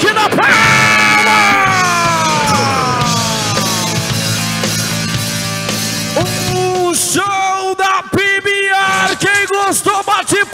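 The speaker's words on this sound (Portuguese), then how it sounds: "aplaude aí, galera!" A rodeo crowd at the Expo Araçatuba in São Paulo roars, yells and whoops loudly, joined by bursts of applause, while an excited announcer's voice rings out over the arena.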